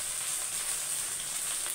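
Chopped tomato hits onions already fried with green chilli in a pan, setting off a steady, even sizzle with fine crackling, close and fairly loud with no talking.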